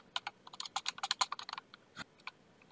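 Rapid bursts of typing on a computer keyboard, crisp close key clicks in an irregular flurry with a brief pause and a couple of final taps, no talking.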